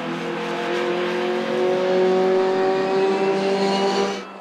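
A 1600cc Suzuki Swift race car, a class C touring car at the Zolder circuit, holds a loud, steady engine note that climbs gently in pitch as it revs for several seconds, then cuts off sharply at the end.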